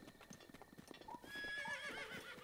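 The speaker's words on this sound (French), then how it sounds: "C'est le premier cheval que j'ai attrapé." Horse hooves clip-clop in a steady trotting rhythm, then a horse whinnies loudly midway through, inside the Zelda Breath of the Wild game world; the first horse caught, heard clearly with no talk.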